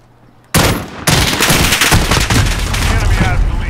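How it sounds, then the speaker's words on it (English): Gunfire in Call of Duty: Modern Warfare multiplayer, Team Deathmatch or Kill Confirmed: loud, close automatic bursts begin abruptly, stop briefly, then resume as dense, continuous rattling fire to the end. "Shots were not on target."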